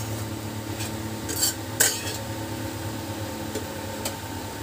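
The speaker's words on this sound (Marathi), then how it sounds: "3 ते 4 मिनिट व्यवस्थित परतून घ्यायचं आहे।" Leftover chapati pieces stirred and sautéed in a pan, with a few soft scraping clinks of a spoon against metal over a faint steady kitchen hum.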